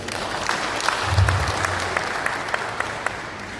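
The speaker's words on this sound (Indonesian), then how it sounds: "Kita tepuk tangan dulu." Steady applause from a large crowd at an official inauguration ceremony in a hall in Papua, Indonesia, dense and continuous, with a brief low rumble partway through and scattered sharper claps standing out.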